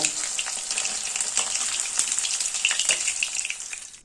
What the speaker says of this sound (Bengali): মাছটা ভাজা হয়ে গেছে এবার তেল থেকে তুলে নেব